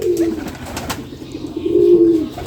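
Two Lakha pigeons coo close by, one throaty coo near the start and a second, longer coo near the end, with quiet room sound between.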